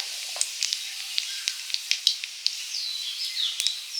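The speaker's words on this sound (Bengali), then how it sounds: "তেলে দিলাম কালো জিরে" Nigella seeds sizzle in hot oil for a fish curry with drumsticks, a steady close hiss with sharp crackling pops scattered throughout and no talking.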